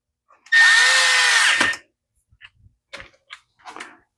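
Cordless power driver snugging a screw on an Echo SRM210 string trimmer, one loud whirring burst of about a second up close, followed by a few faint clicks and handling taps.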